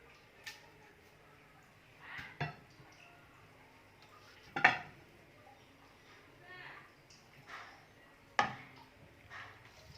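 Spoon or spatula scraping and clinking against a pot while emptying out a thick homemade bioplastic mixture, with scattered sharp metallic knocks spread across the clip and quiet background between them.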